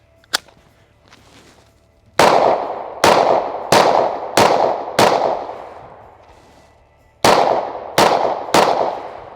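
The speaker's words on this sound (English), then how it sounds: "So I'll shoot the PDP first." A Walther PDP pistol fires at an outdoor range: one early shot, a pause, then a quick string of five loud, sharp cracks. After a short break comes a second string of three, each report ringing out and decaying briefly.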